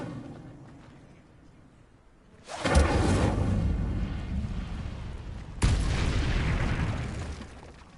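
Two fiery blasts from the Incendio spell in Hogwarts Legacy, each a sudden loud whooshing roar that swells and then rumbles on, the second coming a few seconds after the first, with no voices.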